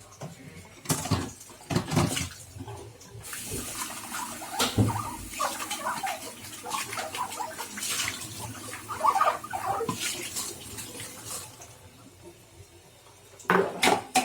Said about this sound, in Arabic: نغسل هاد البيضات.